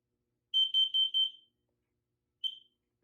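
A combined smoke and carbon monoxide alarm under test gives a quick run of four loud, shrill beeps, then after a short pause a single lone beep, with nothing else audible.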